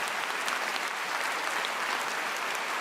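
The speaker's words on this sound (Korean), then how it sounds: "우리 한번 최경주 형제를 위해서 격려와 사랑의 박수를 한번 합시다" Steady, dense applause from a large church congregation, even and sustained throughout with no voices standing out.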